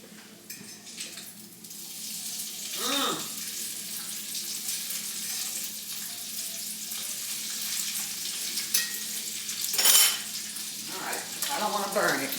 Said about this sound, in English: let me go flip this bacon before I burn something up